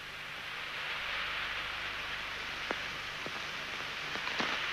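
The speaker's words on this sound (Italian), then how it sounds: "Piove." Rain falls in a steady soft hiss in a 1953 Italian film scene, quiet and even, with a few sharp faint ticks scattered near the end.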